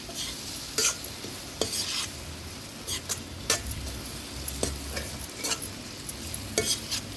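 Chopped tomato being stirred into frying masala with a spatula, repeated sharp scraping clicks at an uneven rhythm over a steady sizzle, close and fairly quiet.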